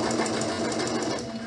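A sewing machine backstitches along the edge of a pillowcase, giving a short, steady, even mechanical whir close by with no talking.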